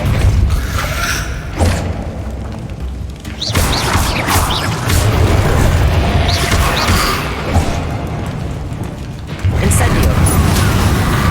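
Depulso spell cast in Hogwarts Legacy, heavy thuds and whooshing impacts amid loud game combat noise and music, with a few sharp bursts spread across the scene.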